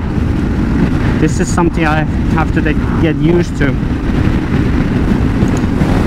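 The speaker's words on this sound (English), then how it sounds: "I'm sorry if the audio is crap because it's really really windy" Heavy wind buffets the microphone in a steady low roar as someone talks over it throughout.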